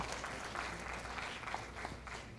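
Clapping from a seated audience at a school board meeting, a brief spell of steady moderate applause heard alone.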